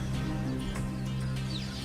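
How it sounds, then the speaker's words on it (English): Wild cheetah mother giving a faint, bird-like chirp, a short high tweet rising over a low, steady background hum. "She emits this sound that sounds like a bird"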